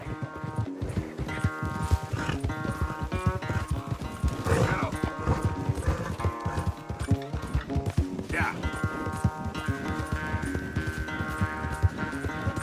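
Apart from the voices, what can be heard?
horse galloping in a video game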